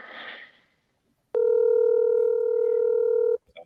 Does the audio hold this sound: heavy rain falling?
no